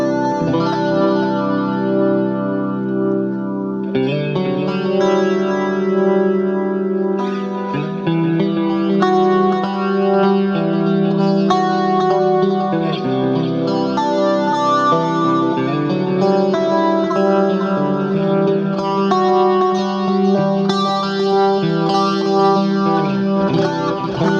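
Electric guitar with a GK pickup played through a BOSS VG-800 effects pedal on a clean setting, sustained chords and notes ringing steadily and loud with chorus-like shimmer, no talking.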